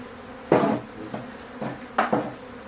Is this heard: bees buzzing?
yes